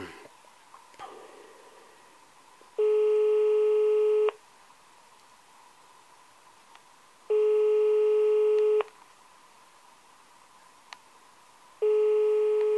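A telephone line tone sounds on a call to a doctor's office in León, Spain, where nobody answers: three long, loud, steady beeps a few seconds apart over faint room background, with no speech.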